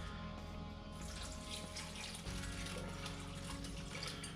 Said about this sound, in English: Then I want to add some water, just enough to cover everything.